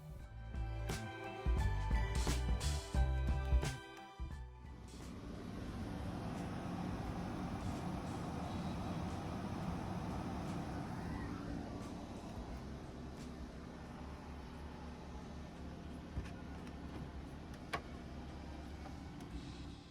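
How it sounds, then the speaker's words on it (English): A generator runs outside a converted school bus, a steady, muffled drone that settles in after a few seconds of clunking handling noise and continues evenly at moderate level. "my generator's running outside, which is where all that noise is coming from"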